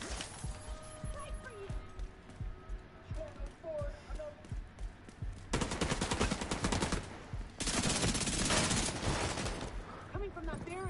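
Gunfire in the Division 2 shooter game, many scattered sharp shots early, then two dense loud bursts of rapid automatic fire, with voices talking over parts of it.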